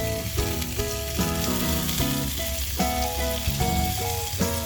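Red amaranth greens fry in a small pan in a tiny kitchen with a continuous, even sizzle. Tonal, rhythmic music plays over the frying throughout.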